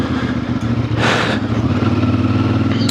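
A stock 2026 CF Moto Ibex 450 parallel-twin motorcycle rumbles loudly up close off road, with a brief sharp rev in the middle before settling back to a throbbing engine note.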